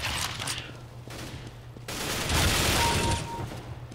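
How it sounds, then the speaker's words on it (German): Suppressed gunfire in Counter-Strike: GO, a run of muffled rapid shots and bursts in a firefight, fairly close and dense, swelling in the middle before thinning out. "Ich mag dieses Schalldämpfergeräusch, ey."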